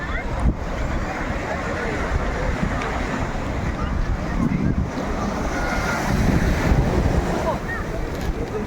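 Surf washes continuously along the shore at Velankanni beach, with wind buffeting the microphone and a broad steady roar; voices are faintly mixed in.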